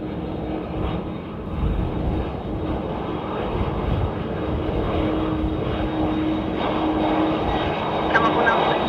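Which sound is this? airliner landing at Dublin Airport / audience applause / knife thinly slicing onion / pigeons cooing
airliner landing at Dublin Airport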